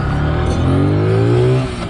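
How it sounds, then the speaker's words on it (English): Zontes G1 125cc scrambler motorcycle engine revving up close, a steady loud drone whose pitch climbs through the revs before easing off near the end, with no talk. "I like the sound the engine makes."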